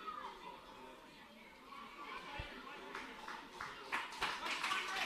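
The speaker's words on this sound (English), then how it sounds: "Once again, you can expect some warm applause." Warm applause from a small crowd at a National Premier League NSW football match between Manly United and Blacktown City greets a substituted Manly United player leaving the pitch, scattered claps building toward the end amid crowd murmur.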